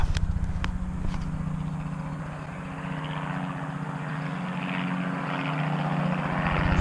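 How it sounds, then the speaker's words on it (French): A helicopter flies nearby during a military-style field exercise: a steady, throbbing rotor-and-engine drone with a fast regular beat, loud and continuous throughout, no voices. "Je viens de voir l'hélico."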